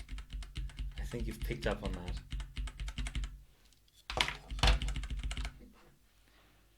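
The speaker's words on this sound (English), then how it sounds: "The reason me hammering the keyboard button didn't do anything is because I forgot to reconnect the keyboard and mouse" Rapid, uneven clatter of a computer keyboard key being hammered repeatedly during an LN2-cooled 1800X overclocking session, close and fairly loud, with someone talking over and between the bursts of keystrokes.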